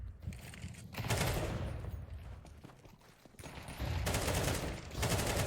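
AK rifles and MAC-10 submachine guns fire during a Counter-Strike bomb-site match, with dense, loud bursts of rapid gunfire that overlap almost continuously, ease briefly in the middle and then resume.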